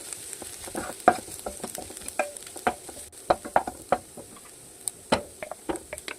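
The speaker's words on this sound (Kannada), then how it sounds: "ಈಗ ನಾವು ಖಾರದ ಪುಡಿ, ಧನಿಯಾ ಪುಡಿ ಹಾಕ್ಕೊಂಡು ಮಿಕ್ಸ್ ಮಾಡ್ಕೋಬೇಕು." Chili powder and coriander powder being stirred into a sizzling paneer masala in a pan, with irregular close scrapes and taps of a spoon over a steady frying hiss, no voices.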